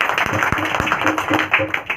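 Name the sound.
congregation applause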